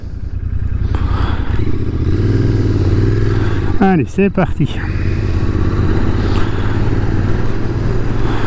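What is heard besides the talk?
Royal Enfield Interceptor 650 motorcycle riding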